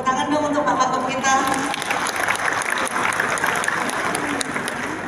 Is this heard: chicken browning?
no